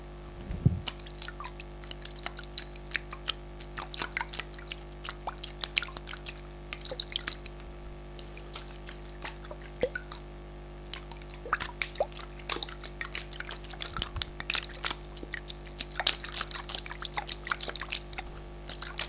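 Water in a small jar handled closely for ASMR, soft scattered drips, taps and faint sloshes spread over a quiet background hum, delicate and intermittent without any talking.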